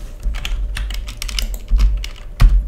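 A computer keyboard being typed on while entering a bet amount in a blockchain coin flip game, a quick irregular run of close, clear key taps with a slightly heavier press near the end, no talking.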